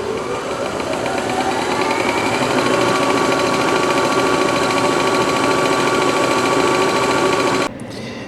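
A Janome MC9900 sewing machine winds a bobbin with a steady, loud mechanical whir that runs unbroken, then cuts to a lower hum near the end.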